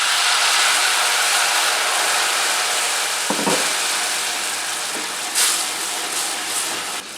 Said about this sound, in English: We're going to use some Sauvignon Blanc, some nice wine from Josh, whoever Josh is, to deglaze.